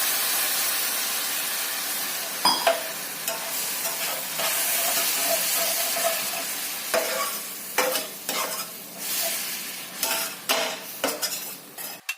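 A hot pan hisses and sizzles as water added to an egg dish with garam masala cooks down, with scattered clinks and scrapes of a spoon stirring, close and without speech.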